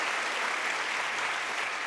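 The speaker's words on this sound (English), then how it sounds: "No, that deserves sort of a round of applause." An audience at a graduation ceremony applauds, a dense, even wash of many hands clapping at steady loudness for a couple of seconds with no talk over it.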